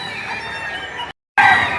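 Chickens and roosters at a poultry market in Padre Garcia, Batangas crow and cluck steadily, loud and close, broken by a brief gap of silence before the fowl calls resume even louder.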